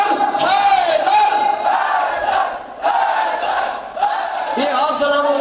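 Crowd of young men at a Shia majlis chanting "Haidar Haidar" together, a loud, continuous massed roar of voices in rising and falling waves, with brief dips between shouts.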